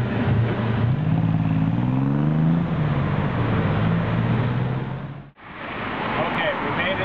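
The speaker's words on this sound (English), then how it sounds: "It's also known as a Tuk-Tuk." A tuk-tuk's small engine drones steadily while driving through Bangkok traffic, its pitch rising and falling with revs, loud and close. A short cut-off interrupts the sound near the end. People talk over the engine.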